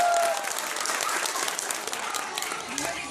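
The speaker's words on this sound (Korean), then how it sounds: "알아들으신 분만 박수 부탁드리겠습니다" An audience at a live Korean entertainment show breaks into dense, sustained applause, many hands clapping loudly and evenly for a few seconds.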